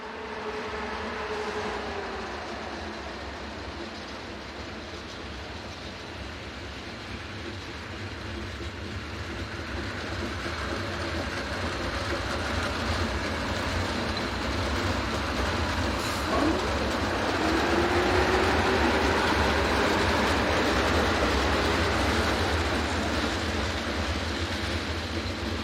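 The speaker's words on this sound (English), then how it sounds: "Sister Loco number 371004 arrives with the overnight service from Amsterdam to Prague." Class 371 electric locomotive rolling into a station at the head of an overnight Amsterdam–Prague sleeper train, a steady rumble of wheels and carriages that swells gradually and stays loud and close, with no talk.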